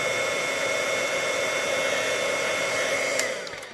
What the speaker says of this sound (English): So this is a heat tool.